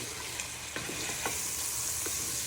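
Chicken, onion, garlic and mushrooms fry in a pan with a steady close sizzle and occasional light scrapes of stirring, with no talking.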